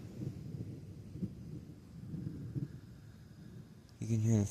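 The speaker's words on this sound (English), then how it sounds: "You can hear the thunder." Thunder rumbles low and distant across open country during an incoming storm in Salina, soft rolling swells, then a louder close burst of noise at the end.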